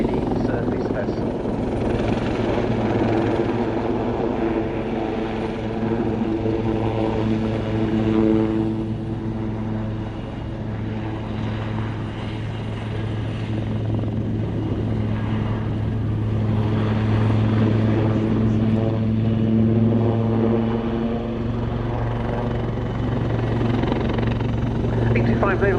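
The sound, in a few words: Royal Navy Wildcat HMA-2 helicopter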